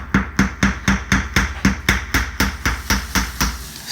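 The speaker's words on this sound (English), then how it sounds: "then you're gonna pound it down with the hammer" A hammer pounds a wooden skewer down into an aluminum can to widen a hole for a homemade alcohol stove, about fourteen steady, evenly spaced metallic taps, close and moderately loud.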